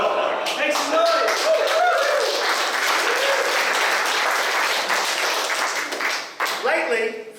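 Crowd at a rap battle event applauding and cheering loudly and steadily for several seconds, with shouts and whoops mixed into the dense clapping before it briefly dips and swells again near the end.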